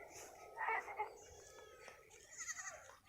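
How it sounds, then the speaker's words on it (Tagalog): A goat bleats a couple of times, faint and somewhat distant, on a rural mountain road near San Fernando, La Union, with soft voices in the background. "Dito pa lang tunog ng kambing."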